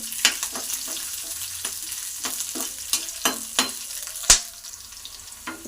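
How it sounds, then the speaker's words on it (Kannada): Green chillies fry in hot oil in a pan, giving a close, steady sizzle punctuated by irregular clicks and taps of stirring; no voices are present. "ಸ್ವಲ್ಪ ಮೆಣಸಿನ್ಕಾಯಿನ ಫ್ರೈ ಮಾಡ್ಕೊತಾ ಇದ್ದೀನಿ"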